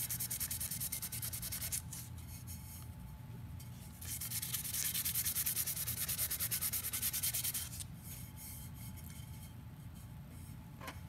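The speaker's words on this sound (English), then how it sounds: "You can see when I sand, it takes a little bit of the shine, makes it dull." Sandpaper rubs steadily across a cured glitter epoxy surface, a close, soft scratchy hiss in long back-and-forth bursts with short pauses between passes, no voices.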